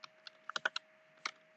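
Quiet, close keystrokes on a computer keyboard: a short, uneven burst of a few taps with a small cluster in the middle and one last stroke after a pause.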